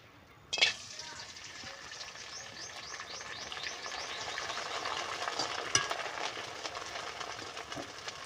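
A clatter, then a rising bubbling sizzle as rice chips hit hot oil, with soft stirring scrapes and a faint voice under the frying.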